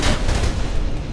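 Gunfire in the video game Mirror's Edge on PS3, a dense burst of close, loud shots packed tightly together with booming low end, no talking over it.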